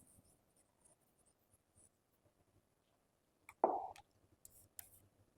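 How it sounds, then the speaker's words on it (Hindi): A teacher's marker or chalk scratches a board in a chemistry class, faint soft strokes with one louder scraping stroke near the end, with no talk over it. "एक सेकेंड और लिख देते हैं इसको"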